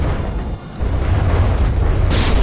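Torpedoes striking a battleship's hull in a naval battle game, a deep sustained low rumble of booms that briefly dips and then swells again, with a brighter burst near the end.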